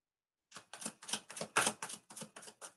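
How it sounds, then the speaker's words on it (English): Tarot cards being shuffled by hand, close up: a steady run of about nine crisp, papery slaps and riffles in quick rhythm, with no voices. "I'm just going to shuffle the cards a little bit more."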